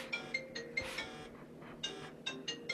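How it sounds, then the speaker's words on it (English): A telephone rings faintly in the background in repeated short electronic bursts, far off and quiet. "You might hear a phone ringing in the background."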